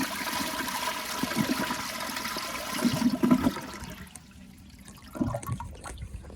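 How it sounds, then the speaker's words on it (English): A 2014 Sterling Windham front-flush toilet flushing close up, a rushing swirl of water that peaks midway, then drops to a trickle before a second gurgling surge at the end. "So yeah, I'm gonna give you another flush"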